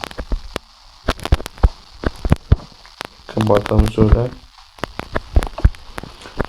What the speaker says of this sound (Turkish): Şu yağmur bir durmadı.